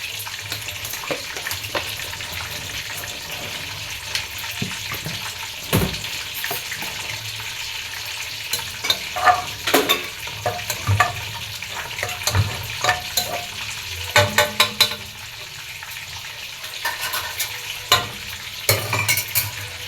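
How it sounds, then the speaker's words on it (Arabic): Lemon in a pan of hot oil gives a continuous sizzle and spatter, with irregular clinks and scrapes from stirring and handling close by, and no voices. "الليمونه اهي في قلب طاسه الزيت اهي"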